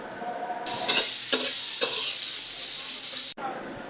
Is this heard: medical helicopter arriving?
no